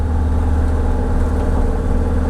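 Ford FE 390 V8 engine revving hard at high RPM, a loud, steady, dense roar with a deep rumbling exhaust note held throughout, close and continuous with no talking.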